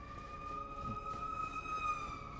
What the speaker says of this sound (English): Sorry about that, ambulance.